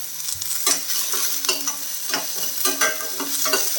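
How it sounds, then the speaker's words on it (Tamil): Onions and green chillies sautéing in a pan, with a steady bright sizzle and regular scraping strokes of a spoon stirring them, close and clear with no voices. "வெங்காயம் வந்து ஓரளவுக்கு வதங்கிடுச்சு"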